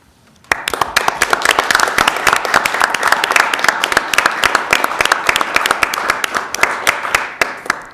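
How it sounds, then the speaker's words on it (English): A council meeting audience in Princeton breaks into sustained applause after a proclamation honouring a community member's service, the dense clapping starting suddenly and holding steady and loud to the end. "call upon all citizens to hail Ronald Michael Caparelli's outstanding service to the Princeton community with boisterous cheering and sustained applause"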